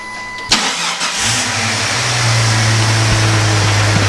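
A Jeep Cherokee engine cranks and catches, then settles into a steady, loud idle that holds to the end with no talk over it.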